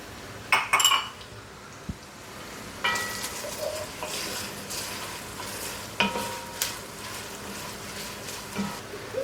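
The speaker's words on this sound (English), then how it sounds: "I'm going to add 3 cloves of garlic that I've sliced pretty thin." Thinly sliced garlic goes into a pot of softening onions for a creamy chicken pot pie soup, bringing a low sizzle with scattered spoon-against-pot scrapes and clinks as it's stirred, fairly quiet and close.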